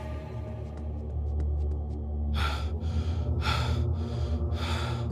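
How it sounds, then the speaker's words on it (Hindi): Cartoon characters panting hard after running through a cold horror-story setting, four loud breathy bursts in quick succession over a low music bed. "वे लोग दौड़ते दौड़ते हांफने लगते हैं।"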